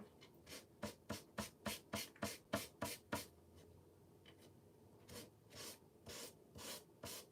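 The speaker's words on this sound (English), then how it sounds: "Guess I need to be a little more aggressive with my sander." A sander works over a thrifted desk caddy during a makeover, making a quiet series of rapid, rhythmic rubbing strokes. A short pause follows, then slower scraping passes resume.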